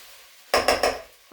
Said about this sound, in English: That's the lentils stirred into the vegetable mixture.